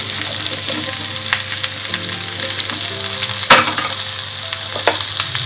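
Chopped pumpkin (petha) fries with browned onions in a pan over a low-medium flame, giving a steady close sizzle throughout with scattered scraping and clinking from stirring, including one sharp knock partway through.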